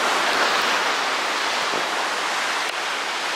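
Surf rolls onto a beach on Oahu, Hawaii, a steady, close wash of breaking waves with no voices.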